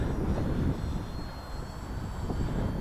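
A Hobbyking F4U Corsair plug-n-play RC warbird flies downwind at under half throttle, its electric motor giving a steady, moderately loud whirring drone with a faint high whine throughout.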